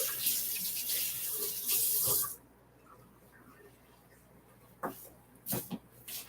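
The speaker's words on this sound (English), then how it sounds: "Here, let me rinse my hands." Tap water runs steadily into a kitchen sink for about two seconds while hands are rinsed, then cuts off, leaving faint clinks and small splashes afterward.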